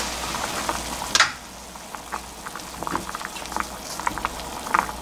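About 300 g of beef with kelp in 500 ml of water simmers in a pot, giving a soft steady bubbling with scattered pops and one sharper splash near the start.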